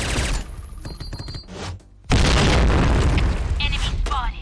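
A grenade explosion in the shooter Point Blank, a heavy booming blast that bursts in suddenly after a brief lull amid gunfire and other game effects, with voices heard over the action.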